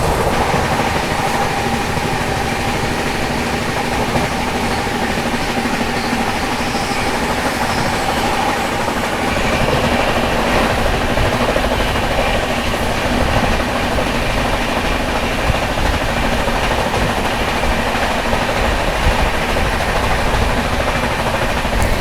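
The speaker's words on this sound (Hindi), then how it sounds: "क्या भाग रही है भाई पुणे दुरंतो" Pune Duronto Express rushing along the rails, heard from on board as a steady, loud rumble of wheels and carriage noise with faint rhythmic clatter running throughout.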